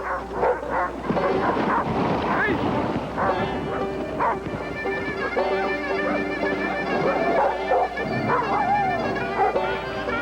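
A team of sled dogs in Alaska barks, yips and whimpers excitedly up close, overlapping calls in an uneven, restless chorus that keeps going throughout.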